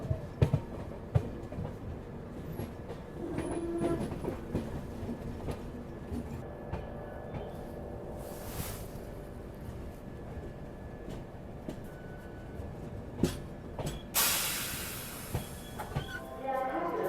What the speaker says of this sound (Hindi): मकराना जंक्शन स्टेशन फिलहाल अपनी ट्रेन पहुँच रही है।